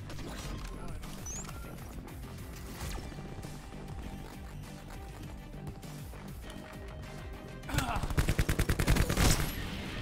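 Gunfire in Call of Duty Black Ops 4 with a KN-57 rifle: a steady bed of game sound, then a loud rapid burst of shots near the end.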